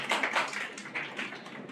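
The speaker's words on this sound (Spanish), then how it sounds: "Un aplauso a ustedes" A small audience claps at a public speaking talk, a brief burst of scattered, fairly quiet clapping.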